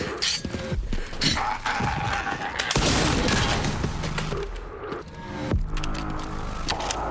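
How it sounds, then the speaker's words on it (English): Shotgun blasts and chaotic combat in Resident Evil Requiem, loud booming shots layered over dense game noise, close and continuous with no clear speech. "shotgun"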